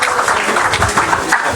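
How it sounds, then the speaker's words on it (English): Audience at a tech trade event prize ceremony gives a round of applause, loud close clapping from a crowd sustained through the short stretch without talk. "A big round of applause."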